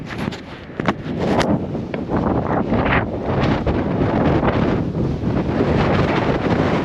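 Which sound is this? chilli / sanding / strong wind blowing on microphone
strong wind blowing on microphone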